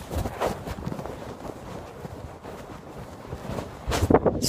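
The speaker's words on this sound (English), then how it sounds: "because it's so windy" Gusts of wind buffet the microphone with low rumbling bursts, steady and fairly quiet, growing rougher near the end.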